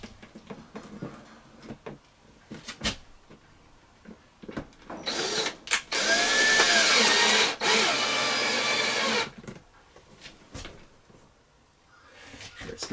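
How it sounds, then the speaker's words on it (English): Power drill driving a screw into a light fixture on an RV ceiling, a loud whirring burst lasting a few seconds mid-clip, with a brief pause, amid quieter handling clicks and knocks. "Put a screw in it."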